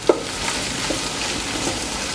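Green chilies, ginger and garlic sauté in a pan of oil for a mutton curry, giving a steady, even sizzle with a faint clink near the start.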